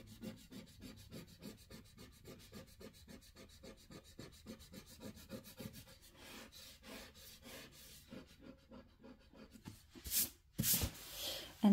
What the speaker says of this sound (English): Next step is an eraser. So all the graphite pencil will be gone.